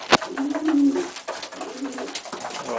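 Homing pigeons cooing up close, soft throaty rolling coos in two or three phrases after a sharp click at the start, fairly faint and with no talk.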